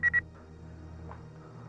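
Two quick electronic dialing beeps, close and clear, followed by a low steady hum.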